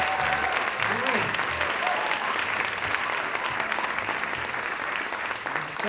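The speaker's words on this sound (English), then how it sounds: "how about a round of applause for Lab?" Sustained applause from an audience at a high school fall band concert, greeting a studio jazz ensemble; steady, dense clapping fills the room throughout with a few voices faintly mixed in.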